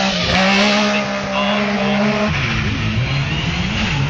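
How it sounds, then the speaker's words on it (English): A loud rally car engine roars close by at the Speyside Stages rally, holding a high droning note, then dropping in pitch as it shifts and keeps revving. "you hear the totally different engine note"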